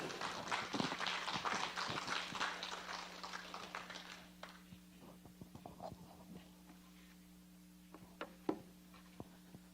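A lecture audience gives loud, dense applause to welcome a guest lecturer, then it thins into a few scattered claps over a low hum.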